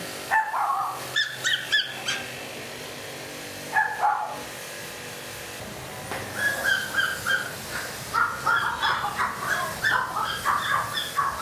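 Puppies at a neglected animal market in Hai Phong, Vietnam, bark and whimper in repeated short yelps, some bursts sharp and close, others softer and scattered, continuing steadily through the second half.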